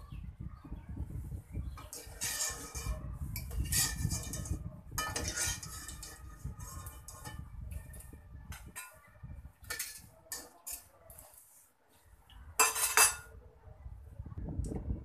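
Crisp Bengali sesame fritters (til er bora) are lifted out of hot frying oil, with metal utensils clinking and scraping in a few bursts over a steady low sizzle.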